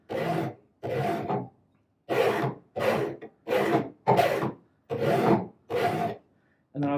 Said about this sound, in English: I'm going to go ahead and finish beveling the angle on this with the file